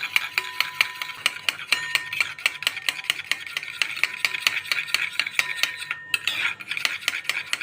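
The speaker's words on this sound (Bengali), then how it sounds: "এই টক দইটাকে আমি ভালো করে এবার ফেটিয়ে নেব।" Sour yogurt whisked briskly in a bowl, a quick, steady run of sharp metallic clinks and taps from the utensil against the bowl, close and clear, with a brief pause near the end.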